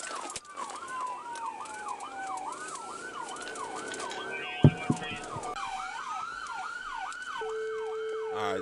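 Wailing sirens cycle up and down repeatedly, close and piercing, with a sharp thud midway and a steady tone near the end.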